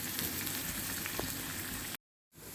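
Onions and finely chopped garlic frying in a pan for a pumpkin bhaji, a steady close sizzle that cuts to silence near the end and then resumes.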